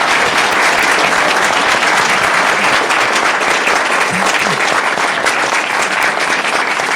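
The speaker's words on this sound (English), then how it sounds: "give another big round of applause to our champions" Audience at a youth recognition event gives a loud, sustained round of applause to young honorees, dense continuous clapping filling the hall with little else audible.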